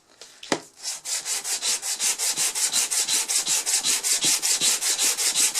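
Sandpaper rubbed steadily back and forth across the soleplate of an electric iron, a loud, close rasping in fast, even strokes after a brief knock at the start, with no talking.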